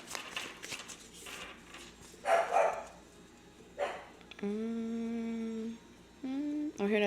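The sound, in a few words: dogs barking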